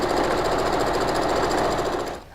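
A sewing machine runs a continuous stitching burst along a fabric seam for an ironing board cover, a steady loud mechanical whir with rapid needle rhythm, then stops abruptly near the end.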